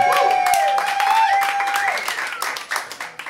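Audience at a live band concert applauding as the band members are introduced, a dense burst of clapping with some whoops and cheers that gradually thins out.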